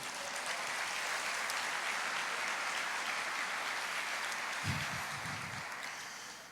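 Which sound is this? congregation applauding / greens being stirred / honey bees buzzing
congregation applauding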